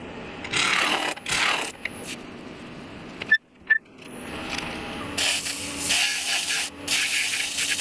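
A wood lathe hollows out the center of an epoxy resin bowl, the tool producing loud, rough scraping hiss in uneven bursts with a brief pause midway.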